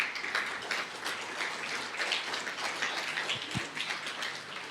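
A church congregation applauding during a Spanish-language Sunday morning sermon: dense, continuous clapping at moderate distance, fairly soft, with no talk over it.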